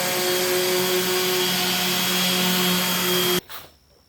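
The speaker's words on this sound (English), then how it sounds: "We're going to sand it." A power tool sands an old wooden shop shelf, giving a loud, steady whining hum that cuts off abruptly near the end, leaving quieter rattling behind.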